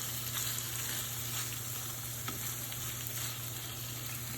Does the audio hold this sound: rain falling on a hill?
no